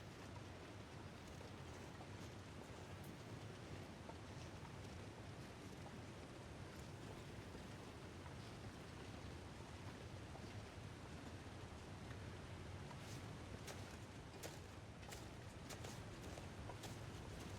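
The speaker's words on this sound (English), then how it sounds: "That waterfall is so loud." A loud waterfall in the video game Voyageur gives off a steady, dense rushing roar that holds unchanged throughout, with faint scattered clicks near the end and no voices.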